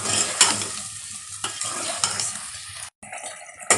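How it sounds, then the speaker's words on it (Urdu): Meat frying in a pan with ginger and garlic paste for nihari, a steady sizzle broken by repeated scraping stirs of a spoon against the pot, close and continuous with no talking. "اب اس کو ادرک لہسن کے ساتھ ہم بھونیں گے۔"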